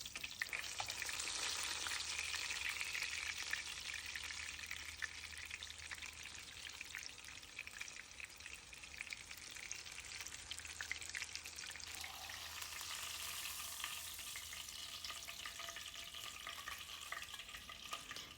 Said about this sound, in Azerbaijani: Qaynar yağda bunu yaxşı-yaxşı qızardıram.